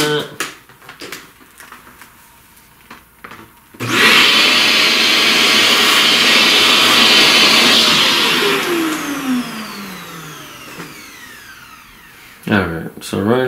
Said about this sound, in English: Let's vacuum some of that.